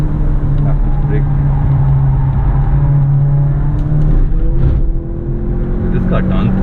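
A Skoda RS245 accelerating hard around a race track at Buddh International Circuit, heard as a loud, steady engine drone with a humming tone that rises and settles across the run.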